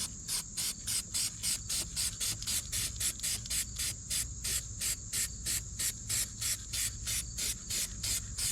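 Rapid bursts of spray paint hiss in a steady repeating rhythm, close and continuous, as a lawn tractor front wheel gets a coat of paint, with a faint low background rumble beneath.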